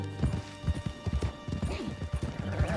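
A horse's hooves clip-clop in an uneven trotting rhythm during riding in a video game, with a brief whinny and heavy tack noise, close and fairly loud.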